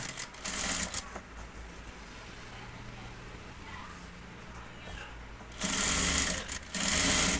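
A sewing machine stitches the neckline of a blouse in short, loud bursts at the start and end, with quieter handling of the fabric between them.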